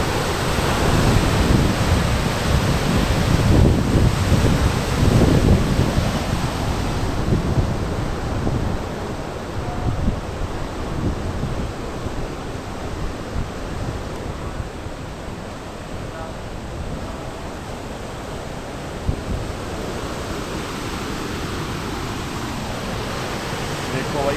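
Water pours through the open gates of the Harike dam as a loud, unbroken roar of rushing flow, with gusts of wind buffeting the microphone and no clear speech.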